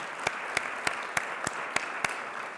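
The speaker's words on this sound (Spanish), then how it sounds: "Un aplauso, por favor" A small gathering claps slowly and steadily for a speaker being introduced, about eight distinct, evenly spaced claps that sound faint and sparse rather than a full ovation.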